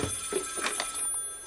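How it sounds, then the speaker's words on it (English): A telephone rings indoors in a short, bright burst of two or three rings with no voices. "Phone's ringing."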